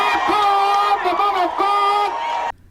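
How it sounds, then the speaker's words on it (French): A stadium crowd greets a preacher's arrival with loud cheers, joyful shouts and whoops, sustained for a couple of seconds before cutting off abruptly. "Il est reçu avec de nombreux cris de joie et d'applaudissements."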